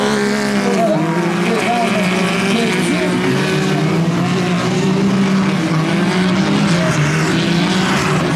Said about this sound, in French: il va falloir qu'ils donne un coup de gaz, puis le gaz en sautant pour faire voler la machine avec le devant dans les airs